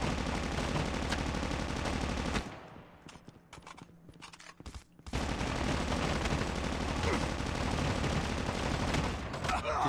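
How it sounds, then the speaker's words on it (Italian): Dense bursts of rapid automatic gunfire from behind the player in the mobile shooter Call of Duty Mobile, loud and near, briefly dropping out in the middle before resuming heavily with a faint voice underneath. "Ci sparano da dietro."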